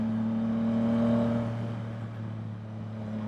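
A Yamaha MT-09 motorcycle engine hums at a steady, fairly loud drone with a brief slight rise in pitch early on, then settles, close and without talk.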